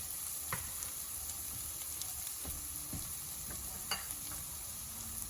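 Mushrooms fry quietly in a pan with a soft, steady sizzle, and a few sharp clicks of stirring come through at intervals. No one speaks.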